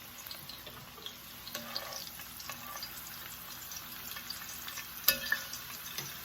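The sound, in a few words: onion frying in peanut oil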